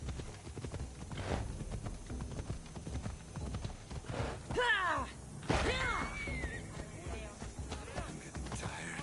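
Horse hooves clip-clop steadily in Assassin's Creed Odyssey on PS4, a continuous trotting rhythm mixed with game effects and a whinny-like sweep partway through.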